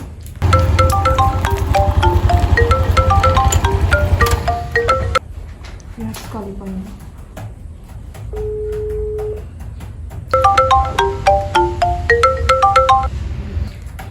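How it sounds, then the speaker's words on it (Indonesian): A phone rings during a call with a loud melodic ringtone in two long bursts. A quieter stretch between them holds brief tones and a held beep. "Harus segera melakukan telepon ke Ibu Cynthia."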